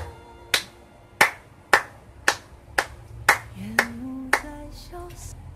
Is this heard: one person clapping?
yes